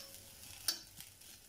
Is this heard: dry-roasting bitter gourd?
yes